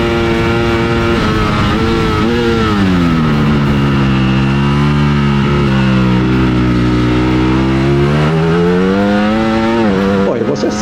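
Ducati Panigale V4S motorcycle engine revving loudly and steadily up close, its pitch sweeping up and down through sustained high revs without pause, as on a racetrack.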